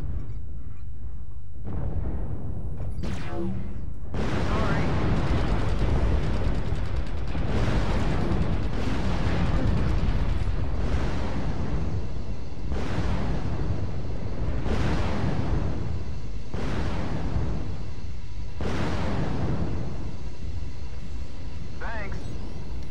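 Incoming missiles explode in the video game MechWarrior Online as a series of heavy booming blasts, about six in a row spaced a few seconds apart. A player speaks over the blasts.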